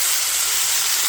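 Two tomatoes hit a pan of browned fried onions for a village-style Rayalaseema natukodi chicken curry, giving a steady, loud, bright sizzle and hiss that holds evenly throughout with no talking.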